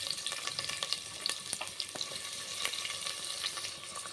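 Chopped onion and green chillies frying in hot oil with whole spices for a vegetable biryani, a steady crackling sizzle with sharp pops and clicks throughout, close and fairly soft.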